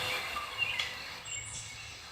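Soft, soothing recorded music with little birds chirping over it, heard indoors in a bedroom; faint, scattered high chirps sit above a steady, gentle background with no talking.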